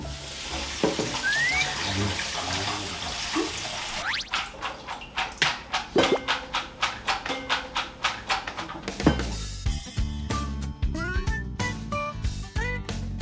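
Water drains and drips from grated potatoes in a kitchen, with splashing and trickling first, then a run of rapid repeated taps and scrapes, close and moderately quiet.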